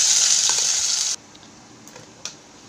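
Loud hiss of ground spice paste hitting hot oil spiced with dried chilli, cardamom, cinnamon and cloves for a prawn malai curry, cutting off abruptly after a second, followed by quiet stirring and a brief clink.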